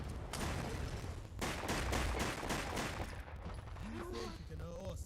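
Rapid bursts of gunfire in the post-apocalyptic Fallout London video game, a dense, loud fusillade of overlapping shots, with a game character's voice briefly heard near the end.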